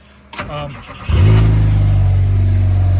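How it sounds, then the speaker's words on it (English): A buggy's Ecotec engine cranks briefly, then catches and starts, settling into a loud, steady, deep rumble close by. "I'll start the car here."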